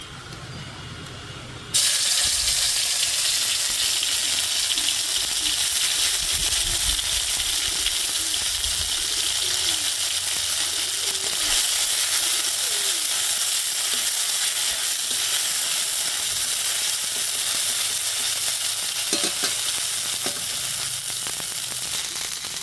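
Bay leaves and whole spices hit hot oil in a pan with a sudden loud sizzle that settles into a steady, dense crackling hiss, with occasional stirring clinks, for an Indian ridge gourd curry.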